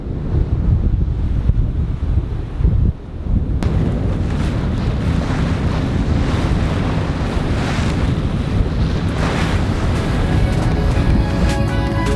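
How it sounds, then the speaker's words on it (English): Waves and wind at sea aboard a trawler heading into a wall of water on a passage from the Bahamas to Puerto Rico in bad weather, a loud steady roar of wind buffeting the microphone over rushing surf, with no voices. "we're going directly into a wall of water."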